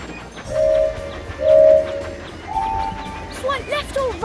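Cartoon train game with playful synthesized toots and whistle-like tones on a steady rolling rhythm, two long held tones then a higher one, ending in quick sliding chirps, fairly loud and with no talking.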